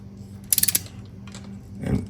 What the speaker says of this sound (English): If you are using a torque wrench, make sure you're doing it in smooth motions.